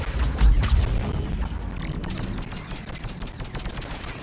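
Rapid bursts of gunfire fill a firefight in Mass Effect 3, loud and dense at first with booming shots, then easing into a steadier rattle of automatic fire, with a grunt or two in the mix.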